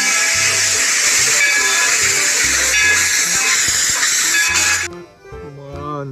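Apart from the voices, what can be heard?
toy train steam whistle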